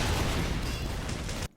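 An explosion hits a Spy in Team Fortress 2, a dense, loud roaring burst that holds steady for about a second and a half, then cuts off abruptly.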